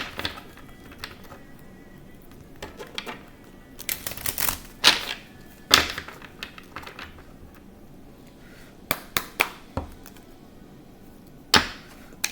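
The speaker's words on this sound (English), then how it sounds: "So we're going to shuffle." Tarot cards are shuffled by hand in quiet, irregular bursts of crisp riffling and slapping, with sharp clustered snaps between softer pauses, close and moderately loud.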